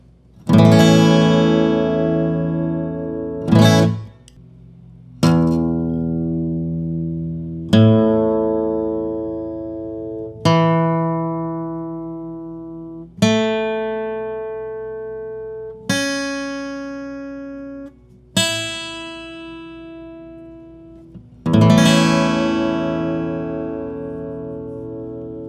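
A guitar in open A tuning rings out a series of about nine chords and picked notes, each struck sharply and left to decay before the next, close, clean and unaccompanied by speech.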